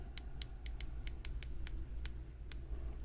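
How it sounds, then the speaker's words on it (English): A unidirectional 120-click bezel on a Tactical Frog Sub 300 homage dive watch is turned, giving a series of about a dozen crisp, light, unevenly spaced clicks, close and quiet, with no talk. "The bezel action, it is pretty good. It sounds a little cheap, but I think the action itself is really good. It is 120 click, unidirectional."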